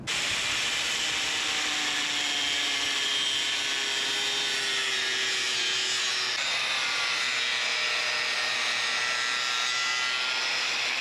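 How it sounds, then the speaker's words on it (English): An abrasive saw cutting through a plastic tab, a loud steady grinding whine with gliding tones that shift as the cut progresses, continuous and close throughout with no voices. "I'm going to use the abrasive saw for it."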